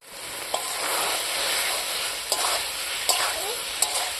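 Eggs and potatoes that were fried earlier are stirred into a hot frying masala for a village-style egg curry, giving a loud, continuous sizzle broken by four spoon scrapes at irregular intervals.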